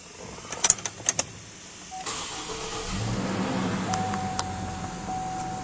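Electric sunroof on a 2006 GMC Envoy SLT sliding open: a few light clicks, then a steady low motor whir that carries on evenly, close and fairly quiet inside the cabin.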